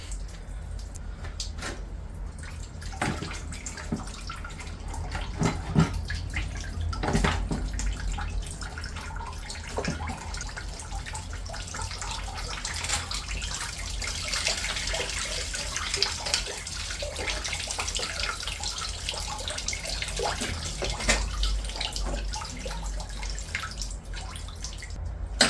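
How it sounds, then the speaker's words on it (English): Coolant drains out of a 200,000-mile Volvo engine in a steady splashing, trickling pour with scattered drips and clanks of work, continuous and fairly close, with no voices. "There's the coolant going everywhere."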